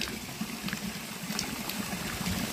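Water flows at a mountain spring in Uttarakhand, a soft, continuous trickling and babbling stream with small splashes, heard fairly faint and unbroken throughout.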